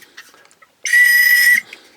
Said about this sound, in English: Oh, a whistle.